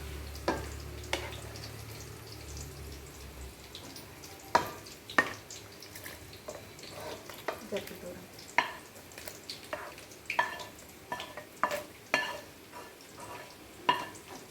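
Rice and water get stirred together in a pot for a meal maker biryani, soft repeated sloshes and spoon knocks at a slow irregular rhythm, fairly quiet, with no talking.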